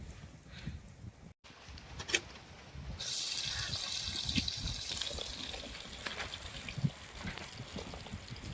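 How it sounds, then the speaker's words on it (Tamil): Cooking oil pours into a vessel for a village meal outdoors, a faint steady trickle and splash running for several seconds under soft background noise. "எண்ணெய் ஊற்றிக்கிடுவா"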